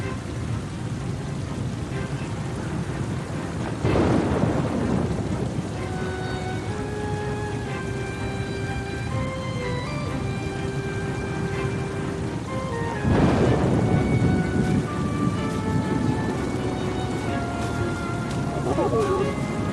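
Thunderstorm in the video game Oceanhorn 2: steady heavy rain with two loud rolling thunder crashes, under a faint musical score.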